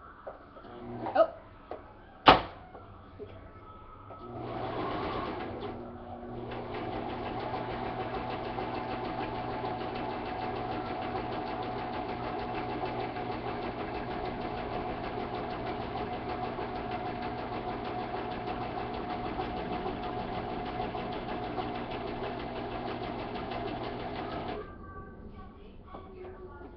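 A sewing machine runs a zigzag stitch, whirring steadily for about twenty seconds after a few knocks and a brief start, while people talk around it.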